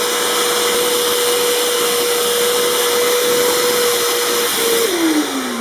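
A Bissell ProHeat carpet cleaner runs over a coffee stain on carpet, giving a loud, steady close-up motor whine with a constant tone that bends downward near the end.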